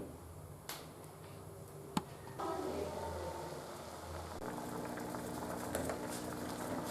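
Soaked horsegram boils in a pot on a stove, a steady bubbling simmer with a few sharp ticks and pops, growing slightly fuller partway through, with no voices.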